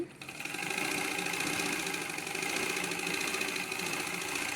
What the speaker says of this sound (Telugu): పైన కూడా అంచు మడిచి అయితే కుట్టేసుకోవాలి